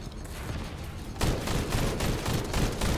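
Automatic gunfire in the video game The First Descendant, a dense rapid burst that starts partway through and continues steadily at close range.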